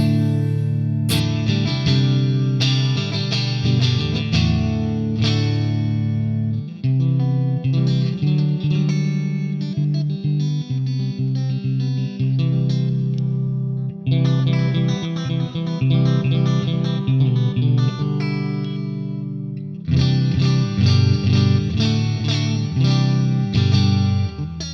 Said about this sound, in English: I want to go to a clean sound. So I'm going to throw a little reverb on.